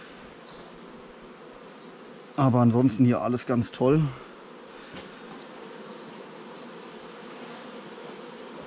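A honey bee colony hums steadily in an opened hive during an inspection, a constant low drone beneath a beekeeper's brief nearby speech.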